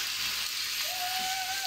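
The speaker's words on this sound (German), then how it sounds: "Mit der gewürzten Seite zuerst, das Steak in die Pfanne." Turkey steak sizzling loudly in a hot pan, a constant bright crackle and hiss, with a thin whistling tone rising partway through.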